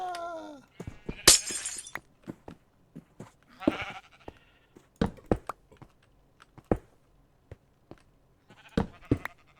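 A sheep in Minecraft gives a short bleat, followed by scattered blocky clicks and breaking sounds of gameplay, close and fairly clear, with no one speaking.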